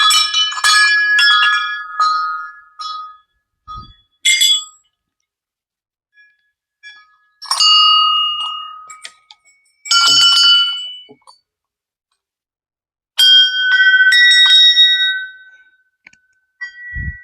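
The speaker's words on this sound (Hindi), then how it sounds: "घंटियां अलग अलग आवाज दे रही है" Many temple bells of different sizes and tones ring at the Siddh Baba Goriya temple, struck in loud bright bursts with short silent gaps between them. No one speaks.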